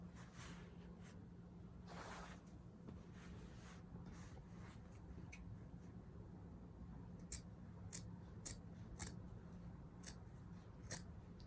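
Scissors snipping through an old cotton t-shirt folded in half, a string of short, crisp close cuts arriving in bursts toward the end over a quiet room hum.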